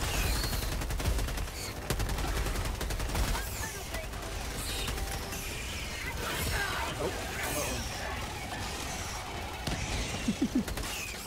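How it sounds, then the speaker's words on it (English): In Helldivers 2, a machine gun fires repeatedly in rapid rattling bursts amid other gunfire and mechanical clatter during a chaotic battle, at moderate distance and partly under players' talk. "that guy's machine gun's working"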